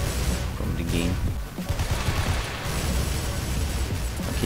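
Rapid gunfire in the Roblox shooter Oof Brigade, including an FN FAL rifle, crackles steadily throughout as dense overlapping shots with some faint voice chatter mixed in.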